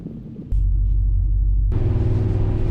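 A Porsche 928S pulls hard in second gear, its V8 a loud, deep rumble that drops briefly and then surges back, heard close with no talking.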